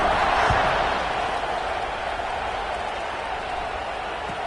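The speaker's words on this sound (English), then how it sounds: "this crowd is buzzing after that last score" A football stadium crowd at a USC versus Notre Dame game cheers after a score, a dense, loud roar that swells at the start and then holds steady throughout.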